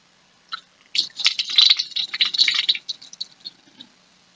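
Water for a can-crush lab being poured into a measuring container, about 10 milliliters: a close, bright run of trickling and splashing with small drips that tapers off toward the end.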